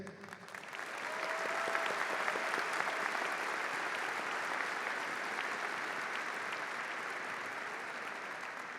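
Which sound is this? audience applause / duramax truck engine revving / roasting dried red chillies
audience applause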